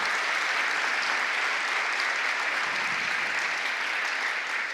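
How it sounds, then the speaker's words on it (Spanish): A church congregation gives thunderous, sustained applause, a thick, unbroken wall of clapping from a large crowd that stays loud and even throughout, with no voices rising above it. "Denle un aplauso al Señor por el privilegio del llamado"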